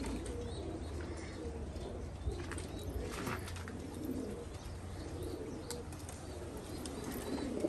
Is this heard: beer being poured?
no